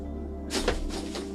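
A door opens once with a brief, soft creaking scrape, fairly faint against a steady low background hum.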